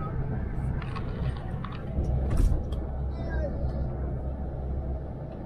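An Itapemirim G7 coach, number 21046, pulls out of the Timbaúba bus station in Pernambuco with a steady low engine rumble and a brief louder surge, while people talk nearby throughout.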